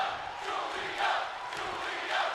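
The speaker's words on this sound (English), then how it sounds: "We can hear the crowd chanting Giulia's name." Crowd chanting a wrestler's name in the WWE 2K25 video game, for the wrestler Giulia before her match with Rhea Ripley, a broad steady roar of many voices swelling in rhythmic waves.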